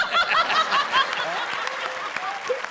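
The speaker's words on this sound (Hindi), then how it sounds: "जोरदार तालियां शान शकील के लिए" A studio audience on a comedy show bursts into applause for comedian Shan Shakeel, mixed with scattered chuckles and laughter. The clapping is moderately loud and continues under a voice.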